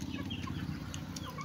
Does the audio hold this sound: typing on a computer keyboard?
no